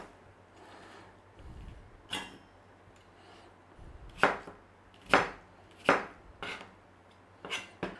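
A knife chops through a small onion on a board for a beef stir fry, giving five or six sharp, close knocks spaced about a second apart after a quieter start, with no talking.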